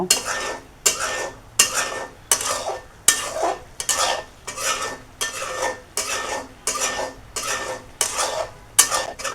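Spices are sautéed and stirred in a pan with mustard paste and tomato for a pabda fish curry, a utensil scraping in steady, evenly spaced strokes, roughly one per second, over a soft sizzle.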